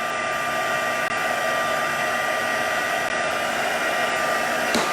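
A heat tool blows steadily and loudly throughout, drying ink splats on card stock, a constant close whooshing hum that holds an even level with no pauses.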